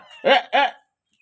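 Two quick, close mewing calls from kittens waiting beside fish being cut, each a short harmonic cry, followed by silence.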